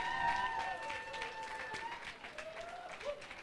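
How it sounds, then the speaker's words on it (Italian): A crowd at a European poetry slam championship in Rome claps steadily, with moderate applause, whoops and scattered voices mixed in throughout. "Un applauso."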